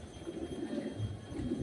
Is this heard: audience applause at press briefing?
no